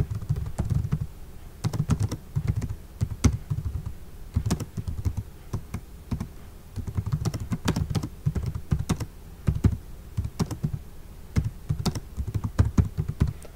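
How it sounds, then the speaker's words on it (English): Steady clatter of typing on a computer keyboard, close and fairly loud, with irregular bursts of keystrokes running throughout and no voices. "you can type in whatever you want."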